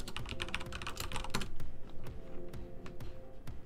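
Quick typing on a computer keyboard, a flurry of soft clicking keystrokes at first that thins to a few spaced taps, quiet and close.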